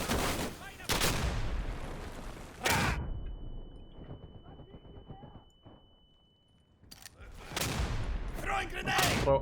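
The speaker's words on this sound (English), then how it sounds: "Oh wow, that's an impact grenade or something." In the Day of Infamy shooter game, an impact grenade and rounds of gunfire go off in loud, sharp bursts separated by a quieter gap, with a voice speaking over parts of it.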